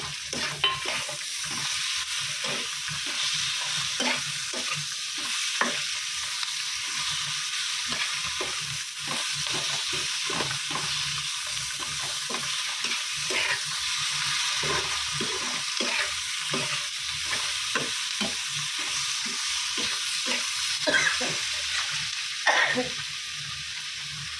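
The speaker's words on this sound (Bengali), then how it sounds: "এবার আমি পেঁয়াজের পেস্টটা দিয়ে দেবো, অল্প রসুনও দিয়েছি।" Onion paste and a little garlic fry in a pan, a steady sizzle with repeated stirring scrapes and clicks throughout, close and continuous with no talk.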